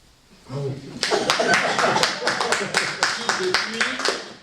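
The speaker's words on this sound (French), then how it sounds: "vous avez anticipé sur ma demande d'applaudissement" Scattered hand claps build into brief applause from a group, with some talk and murmuring mixed in underneath.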